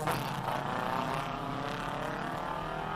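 A Ford Escort race car in Gulf colours climbs a hill at a classic car hillclimb, its engine a loud, steady roar held for the whole stretch without a break.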